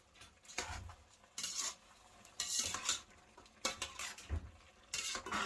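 A utensil scrapes and clatters against a metal pot in repeated bursts, stirring chicken with a soft sizzle underneath.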